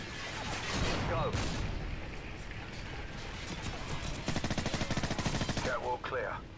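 Gunfire and a flashbang grenade burst in a tactical shooter video game, loud overlapping shots and a sharp blast at close range, with voices talking over the action.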